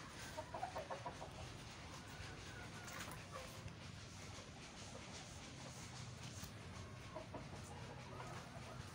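Hens eating jamun fruit at a small farm cage, giving off steady soft clucking and scattered chicken calls over a continuous broadband background of rustling and pecking, fairly quiet throughout with no talking.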